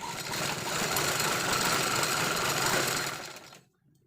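Sewing machine stitching a seam on old denim jeans, a fast continuous mechanical whir close up for about three and a half seconds before stopping.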